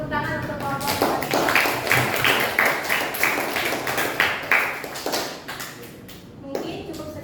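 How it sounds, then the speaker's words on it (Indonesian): Applause for a presenting student group in a classroom session, a dense run of hand claps lasting several seconds at steady loudness before tapering off. "Kasih aplaus tepuk tangan untuk kelompok Hani."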